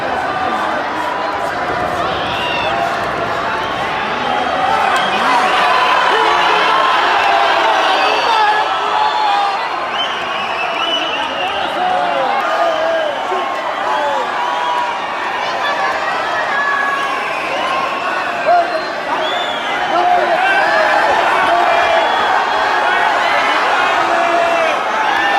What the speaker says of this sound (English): the raucous crowd divides into a bitter yet highly spirited rivalry